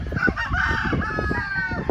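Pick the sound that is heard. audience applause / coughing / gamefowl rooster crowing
gamefowl rooster crowing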